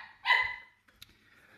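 Two small puppies indoors, with one sharp, high yip-like bark up close and a fainter short yelp about a second later, set against a quiet background.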